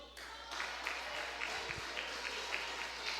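A church congregation applauds steadily throughout, a continuous wash of clapping that sounds fairly distant, with no speech over it.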